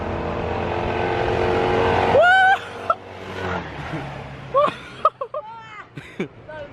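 Yamaha T-Max 500cc and X-Max 300cc scooters racing, engines droning steadily then a sharp revving rise that drops away, followed by scattered bursts of engine note and voices talking.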